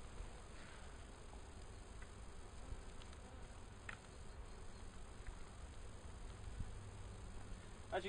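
Honey bees in a small colony inside a Technoset hive give off a low, steady buzzing drone, faint and continuous, with occasional soft ticks and taps.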